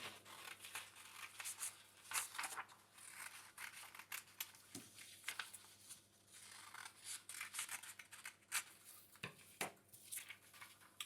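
Scissors snip through paper to cut out a door shape, giving a run of quick, close crisp clips and rustles at an uneven pace, fairly quiet with no talking.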